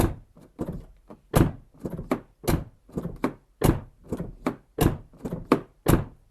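A series of about a dozen sharp thuds, a car door on a damaged car with a sagging door pillar being shut over and over at a steady, uneven pace, with short pauses between.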